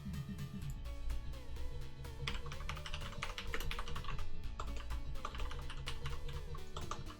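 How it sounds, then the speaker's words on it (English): Rapid, continuous clatter of keys on a brand-new computer keyboard, close and crisp, with uneven bursts and short pauses as someone types. "Wow, new keyboard."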